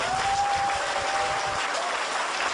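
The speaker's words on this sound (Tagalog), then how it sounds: "Kaya palakpakan po natin" Audience at a marketing seminar breaks into steady, dense applause, continuous clapping throughout with a faint tone running underneath.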